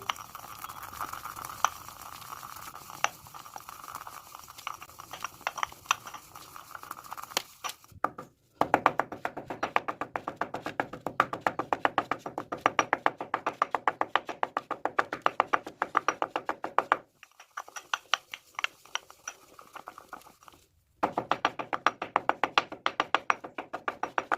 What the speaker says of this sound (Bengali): এবারে এই সর্ষেগুলিকে সেই হামাল দিস্তায় রেখে যতটা পারা যাবে বেশ করে চূর্ণ করে নেব